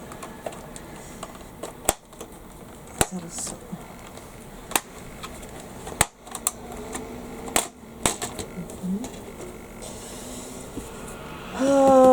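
Laptop keyboard being taken apart and cleaned, with sparse sharp plastic clicks and snaps at irregular intervals over a quiet room background, ending in a brief louder scrape.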